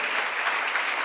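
A church congregation gathered for a fasting and prayer service claps loudly for Jesus, a thick continuous wash of applause filling the room for about a second.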